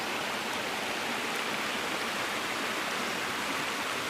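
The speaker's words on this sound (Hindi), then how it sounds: "ये पानी बह रहा है नदी का" River water flows steadily past a bathing ghat in the Aravalli hills, a continuous broadband rush with no break or voices.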